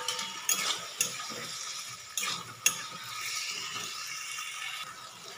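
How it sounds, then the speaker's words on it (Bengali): A spoon scrapes and stirs boiled taro leaves into spice masala in a pan, fish head in the dish, giving repeated gritty scrapes and clinks with a soft sizzle underneath, close and steady. "দিয়ে একবার ভালো করে কচুর শাকটাকে মশলার সাথে মাখিয়ে নেবেন"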